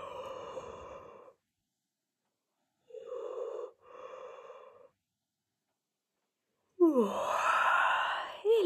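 Slow, breathy yawns, several drawn-out exhales separated by silent pauses, the last one louder and rising in a stretched sigh, heard close and alone with no talking.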